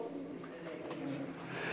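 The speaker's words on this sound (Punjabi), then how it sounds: "ਆਹ ਕਬੂਤਰ ਬਹੁਤ ਘੱਟ ਆ ਇਹ ਨੀਲਾ ਕਬੂਤਰ" Soft pigeon cooing runs through a steady murmur of background noise, low and continuous with no clear pauses.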